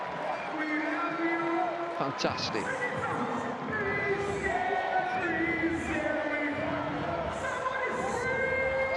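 Crowd at an England vs West Indies cricket match cheering and applauding steadily throughout, with whoops and shouts rising over the broad roar, under a commentator's voice.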